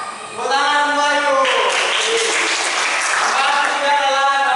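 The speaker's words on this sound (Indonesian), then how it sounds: "Tepuk tangan Bayu" Pupils in a classroom clap for a classmate, a brisk burst of many hands starting after a brief moment, while a voice keeps talking or calling out over the clapping.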